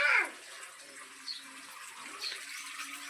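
Water drains from a water tank with a faint close splash and gurgle. Small surges of flow come and go over a low steady trickle.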